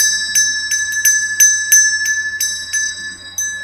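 A bright metallic bell rings in a quick irregular series of sharp strikes, each one leaving a clear sustained ring beneath a steady high tone, close and loud with no talking.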